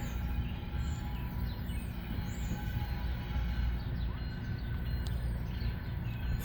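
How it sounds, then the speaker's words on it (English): Canadian National freight train passing in Pekin, Illinois: a steady low rumble of rolling cars at moderate distance, with birds chirping faintly above it. "We have a Canadian national train."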